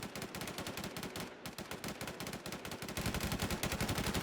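Rapid automatic gunfire rattles steadily throughout a shooting video game match, loud, dense and close with almost no pause, a brief gap before it resumes.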